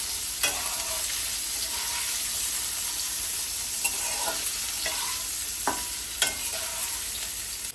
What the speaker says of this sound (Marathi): सगळ्यात पहिले तर आपण मस्त काजू मस्तपैकी त्याला फ्राय करून घेऊयात काजूला.